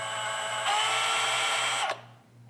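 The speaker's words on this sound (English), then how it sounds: "Looks like I'm gonna have to finish the machining process." Power tool machining a chamfer on a part for an off-road RC 6x6, a steady high whine that rises in pitch and pressure midway, then cuts off abruptly near the end.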